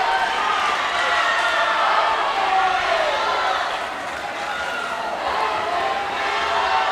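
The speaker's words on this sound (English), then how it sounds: "Teammates, benches, crowd, all loud and on their feet" Loud, steady crowd roar from teammates, benches and spectators on their feet at a high school boys swim and dive meet, a continuous wash of cheering and yelling that dips briefly midway.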